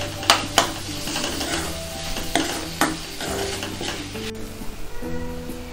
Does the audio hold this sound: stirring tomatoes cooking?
yes